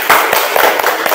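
A class of pupils claps hands together in a classroom, a loud, close burst of rhythmic group clapping with several quick beats.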